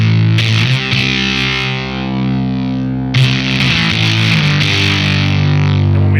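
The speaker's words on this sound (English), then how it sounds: "So when I turn it up, you're gonna hear it compress a little bit more." Electric guitar through an LSL Moon City Fuzz pedal with the volume turned up: thick, compressed fuzz chords ringing out, a pause near the middle, then a second loud sustained strum, with no talking.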